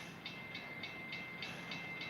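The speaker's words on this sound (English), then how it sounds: "the minute I get here, the freight train's coming" A freight train rolls past a rider who has stopped nearby, a faint steady rumble under evenly spaced wheel clacks repeating about three times a second.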